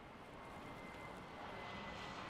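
In a video game, an airplane engine roars faintly at a distance, a steady broad drone that swells slightly as the aircraft passes, with no speech over it.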